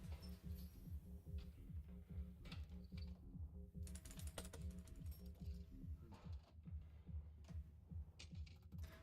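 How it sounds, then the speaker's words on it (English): Rapid typing on a computer keyboard during an online fishing game, a steady stream of quiet close key clicks with a few short pauses between bursts. "Typing in all caps."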